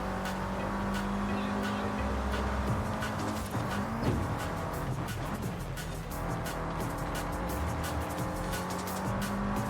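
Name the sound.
race car driving in video game Forza Horizon 5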